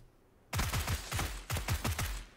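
Rapid bursts of automatic gunfire from the battle royale game PlayerUnknown's Battlegrounds, loud and close, in two clusters of sharp repeated shots with no voices over them.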